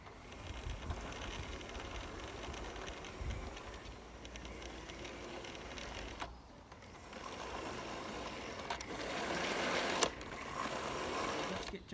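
Lionel G scale toy train engine, James the Red Engine, running along its track with a steady mechanical whir and rattle that shifts in intensity partway through, fairly quiet throughout.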